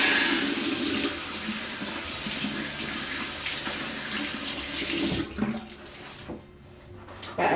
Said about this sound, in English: Let me wash my hands and get this body butter off my hands so I can wash my face.